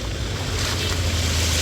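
Floodwater pouring across a highway near a drain chamber, a steady loud rush of flowing water with wind buffeting the microphone, continuous and close with a low rumble underneath, no speech.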